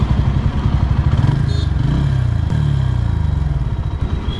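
A Bajaj Pulsar P150 motorcycle cranked on its electric self-starter after running low on petrol, the engine catching briefly with a close, loud, rough rattling putter that runs throughout.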